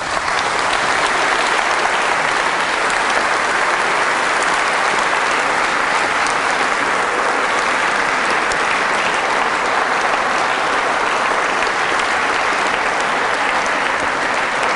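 Sustained, dense applause from a lecture audience in a Southampton hall, loud and even throughout with no voices on top.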